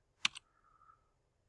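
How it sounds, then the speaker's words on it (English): A single soft keystroke gives a quick double click on a computer keyboard as typing begins, faint and close, followed by a brief low hum and then quiet. "I'm just going to start typing in center mark."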